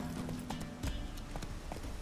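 Roach, a horse in The Witcher 3, gallops in a quick, even clip-clop of hoofbeats, soft and fairly faint in the game mix.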